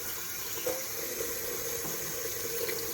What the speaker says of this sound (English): So you want to repeat this process until your water is pretty darn clear.